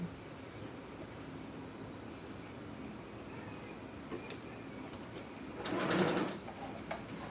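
Sewing machine running an easing thread, a steady low whirring stitch that continues evenly, then swells louder and brighter near the end before settling back.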